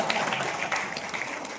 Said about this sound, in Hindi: अगर मजा आ रहा है तो ताली बजाइए